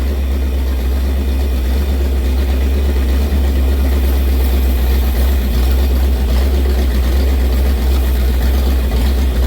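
A high-compression engine idles steadily while oil is fogged into it, producing a constant low rumble with an even hiss on top, close and loud with no speech.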